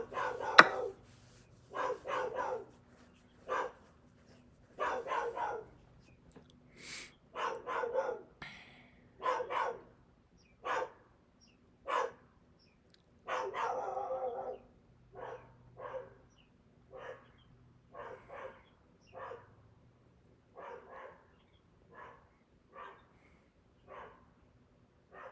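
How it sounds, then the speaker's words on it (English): A dog barking repeatedly indoors during a chess session, with short bursts of barks and yips spread across the whole stretch, moderately close and growing sparser toward the end. "It's hard to concentrate with my dog."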